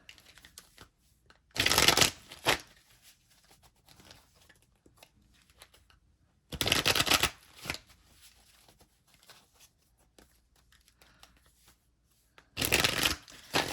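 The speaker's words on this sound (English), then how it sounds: "as I shuffle this deck" A deck of cards being shuffled in three separate quick riffling bursts, with quiet pauses between them.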